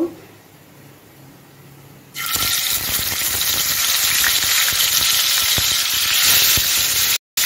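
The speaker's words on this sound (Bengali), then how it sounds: "এখন আমি মাছগুলো ভেজে নেব" Fish frying in white oil in a nonstick pan, a loud, steady sizzle that bursts in after a quiet start and crackles on continuously, with a brief cut near the end.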